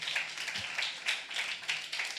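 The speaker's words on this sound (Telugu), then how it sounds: "కొట్టి చప్పట్లు." A congregation applauds at a Telugu church sermon, a steady wash of many hands clapping together in a continuous, fairly loud burst with rhythmic swells, no voices rising above it.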